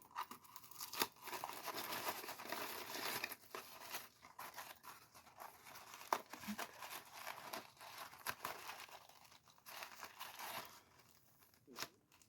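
Wrapping paper crinkles and rustles as a summer swap gift is slowly unwrapped, a close, continuous papery crackle with small tearing bursts that runs throughout at low volume.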